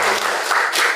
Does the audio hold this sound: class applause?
yes